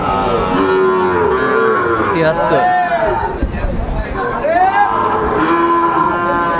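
Sahiwal cattle moo loudly and repeatedly nearby at a farm in Manikganj, low drawn-out calls overlapping with people talking in a busy crowd.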